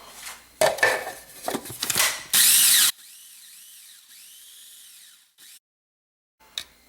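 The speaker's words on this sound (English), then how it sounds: "I'm putting all of the ginkgo leaves in this food processor." A food processor grinds ginkgo leaves into powder. Clattering handling noises give way to a short, loud whirring burst, then a steadier, quieter mechanical hum that cuts off near the end.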